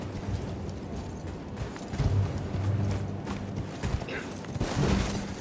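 Horse hooves trot in Elden Ring, heard as a steady clip-clop rhythm of moderate loudness under game ambience, with no voices.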